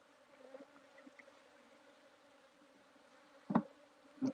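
Honey bees hum faintly around an open hive during a hive inspection, a soft continuous buzz at the edge of hearing, with two louder close bursts near the end as bees fly past.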